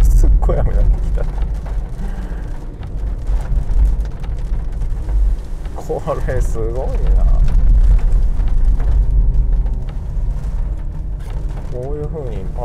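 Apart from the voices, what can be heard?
heavy rain heard from inside a Honda Insight hybrid car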